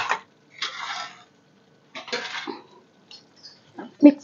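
A spoon scrapes and clinks against a pan while stirring roasted, crushed makhana mixed with fried edible gum, coming in a few short bursts of scraping with brief pauses, close and moderately quiet.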